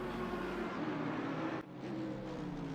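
GT3 race cars circulate in traffic at Suzuka circuit, a steady distant engine drone with no clear pass-by peak, one brief dip partway through.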